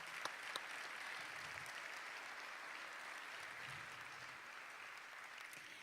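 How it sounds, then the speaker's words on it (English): A sold-out crowd at the Macon-Bibb County State of the Community address applauds steadily for several seconds, a dense, even wash of clapping heard from a distance. "So this sold out crowd, give yourself a round of applause."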